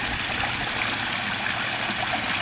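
A garden pond skimmer runs with a steady trickle of water, giving an even, continuous splashing hiss close by with no voices.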